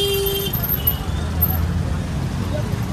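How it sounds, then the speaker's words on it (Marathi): Heavy road traffic rumbles on a busy street, a dense steady engine drone with a brief distant horn toot near the start, while a person talks nearby over it. "लय ट्रॅफिक आहे, बघून शकतो."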